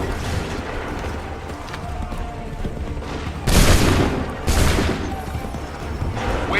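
Two heavy musket volleys boom out in Assassin's Creed III, each a loud broad blast with a rolling tail, about a second apart over a rumbling battlefield background.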